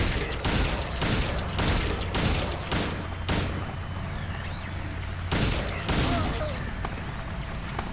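Video game gunfire: repeated loud bursts of shots, clustered in rapid volleys through the first few seconds and again near the end, over a steady low mechanical hum, with no talk.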